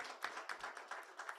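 Scattered clapping from a small audience greets the Amref team at a Kenyan health security report launch, a handful of distinct claps in an uneven rhythm at moderate volume.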